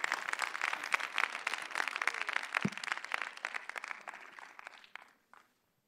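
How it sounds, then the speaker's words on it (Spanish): Audience applause at a security conference talk, a dense, steady patter of many hands for about five seconds, then tapering off and stopping into silence. "Otro aplauso, por favor"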